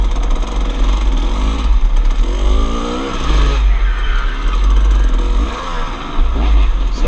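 Off-road motorcycles race through mud at a GNCC event, engines revving loud and close in surging bursts, with rough, churning noise as the bikes wallow and accelerate.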